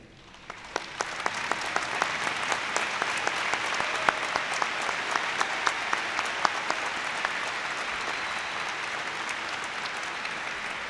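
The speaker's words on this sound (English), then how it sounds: "I would ask the audience and our students to please join me in recognizing them with your applause for their contribution" Dense, sustained applause from a large auditorium audience at a commencement ceremony swells quickly and holds steady for several seconds.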